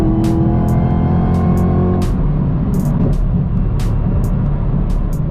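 A Chevrolet Camaro ZL1 with a 10-speed automatic accelerates hard, its engine droning loudly at a steady pitch, then dropping as it shifts partway through, with sharp ticking and clicking bursts repeating over the roar.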